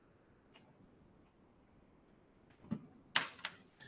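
Calculator keys pressed while entering a trigonometry calculation: a few sharp clicks, one early and a quick cluster near the end, close and fairly quiet, with no talk.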